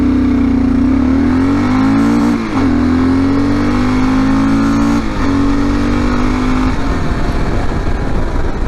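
Kawasaki KLR650 motorcycle with the stock exhaust, de-snorkeled intake and Uni air filter, accelerating hard from 0 to 60: a loud, close single-cylinder drone rising in pitch through each gear, with brief dips at the shifts before easing off near the end.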